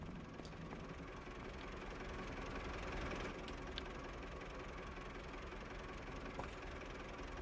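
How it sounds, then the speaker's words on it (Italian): Ursus tractor engine in Farming Simulator 25 running at a steady idle, a continuous low broadband rumble with faint knocking, moderately quiet and unchanging throughout with no talk. "Senti che sound quest'Ursus."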